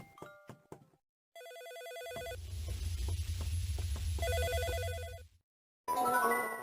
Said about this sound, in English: With the phone still ringing